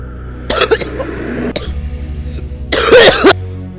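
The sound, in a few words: coughing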